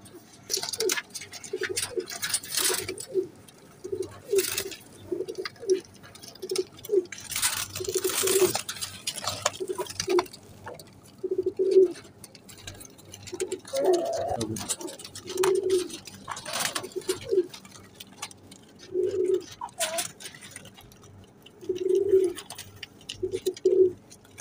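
A male teddy pigeon (kabootar) cooing in repeated low, throaty coos at an irregular pace, with soft fluttering and rustling around it, close by and moderately loud.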